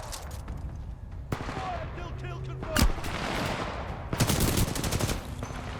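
Rapid automatic gunfire in the shooter Titanfall 2, with sharp individual shots and loud bursts cracking over a constant rumble of battle ambience.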